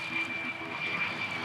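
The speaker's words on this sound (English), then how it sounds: "There's about 50 of those, 5th generation F-35 stealth fighters." An F-35 stealth fighter jet passes close by a runway, its engine producing a loud, steady roaring whine that fills the whole short moment without any voices.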